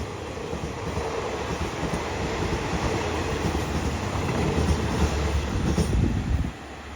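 A Hitachi 4505 diesel locomotive hauls rapid train 170 from Yala to Bangkok, a steady loud rumble of engine and rolling wagons passing close for about six seconds before cutting off sharply near the end.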